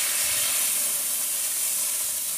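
Pitha batter sizzles steadily on an oiled griddle (chatu), a close, even, continuous frying hiss with no voices over it.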